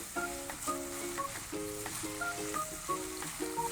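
Onions fry in margarine in a pan, giving a steady, soft sizzle and crackle throughout, with background music playing faintly over it.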